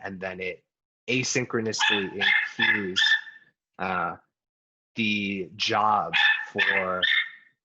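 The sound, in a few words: dog barking in the background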